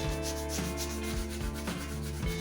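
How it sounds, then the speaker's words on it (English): Continuous abrasive rubbing of 1500-grit sandpaper against an early-1990s mountain bike frame, with rhythmic back-and-forth strokes, close up and steady. "here I'm gonna go over the frame with a 1500 grit, just to kind of make it smoother"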